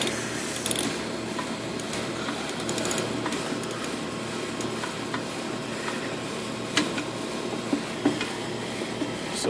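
Screws being removed from an HVAC compressor's mounting during a compressor change-out, giving quiet mechanical ratcheting and clicking with a few sharper ticks over a steady low hum, fairly close and without talk.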